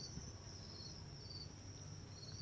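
Week-old crickets on a cricket farm chirp in a continuous high trill, steady and faint, over a low background rumble with no voices.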